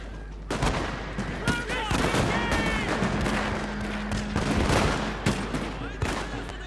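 Musket-style gunfire volleys in the strategy game Shogun 2, with repeated sharp cracks and rolling bursts of shots layered over battle din and faint voices.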